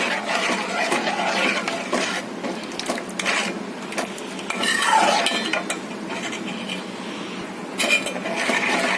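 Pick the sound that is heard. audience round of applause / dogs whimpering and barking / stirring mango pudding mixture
stirring mango pudding mixture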